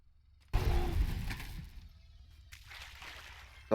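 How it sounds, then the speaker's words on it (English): A delayed explosion in the Scrap Mechanic video game: a sudden loud burst that rumbles and crackles for about a second, fades into a lingering debris hiss, then ends with a second sharp crack. "Delayed explosion."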